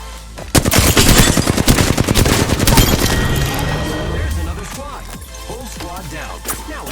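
Rapid automatic gunfire bursts loud and dense from a squad-based battle royale shooter, bursts of shots followed by scattered single reports and lingering game effects, with a quiet voice under the action.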